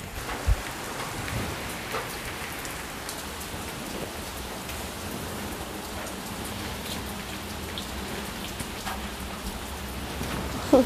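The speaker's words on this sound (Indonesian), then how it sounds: "Wah, gerimis hujan euy." Light drizzling rain falls outdoors near a home, a soft, even hiss of drops on surfaces with occasional faint taps, steady throughout and with no voices.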